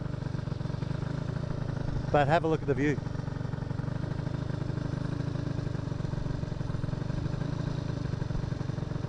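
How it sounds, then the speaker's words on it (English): Small moped engine running steadily while climbing a mountain road on Lipari, Sicily, a constant mid-pitched drone throughout with someone briefly talking over it. "I'm just driving up this big mountain, very nice, on my trusty moped"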